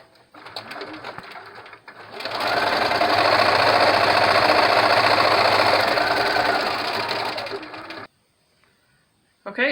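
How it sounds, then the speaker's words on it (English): A sewing machine stitching a fabric face mask runs in one steady, fast whirring stretch of several seconds, close and fairly loud, then stops into near silence. "I have finished sewing all around like that, leaving this opening"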